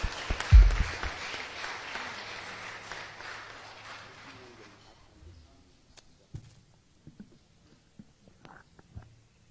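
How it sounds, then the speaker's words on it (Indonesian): A church congregation at a Pentecost Sunday service applauds briefly, the clapping swelling then fading over a few seconds, followed by quiet room sounds and scattered small knocks. "Kita berikan tepuk tangan lagi untuk Tuhan kita Yesus Kristus."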